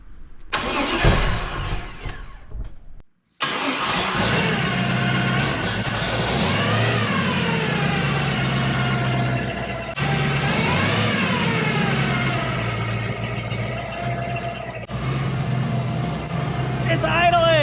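A tri-power mini truck engine cranks in short bursts, then starts and settles into a steady, close idle with a noisy gear drive whine, and people talk over it.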